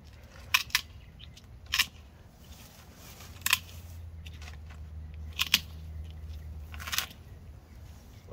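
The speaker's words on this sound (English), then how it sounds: "you can hear the sound when the scissors are cut through it" Shears snip through tough gar fish skin in sharp, crunchy cuts, about seven over several seconds, close and irregular, over a quiet low hum.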